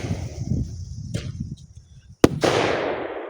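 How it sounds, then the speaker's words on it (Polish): Two sharp firecracker bangs inside a pot, a small pop followed by a loud crack, then a hissing decay, with low rumbling background noise before them. "Dwie petardy, ale niestety wybuchły, ale pojedynczo."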